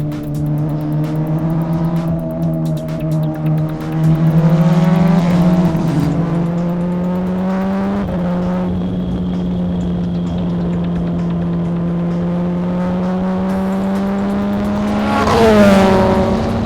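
DeltaWing race car with a 320-horsepower engine running flat out on a race track, its engine note loud and close, pitch rising and shifting through gear changes, with a sharp surge near the end and no talk.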